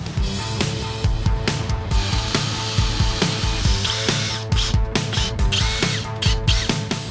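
A power drill drives screws to fix a water pump and accumulator to the wall inside a campervan, with repeated whirring bursts and ratcheting clutch clicks, loud and close with no talk.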